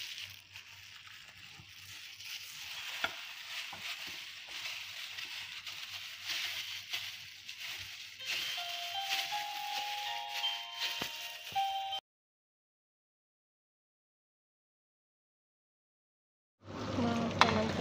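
Kubba, semolina dumplings, frying in hot oil, a soft continuous sizzle with occasional small pops and stirring sounds that runs for about twelve seconds before cutting to silence, with no speech over it.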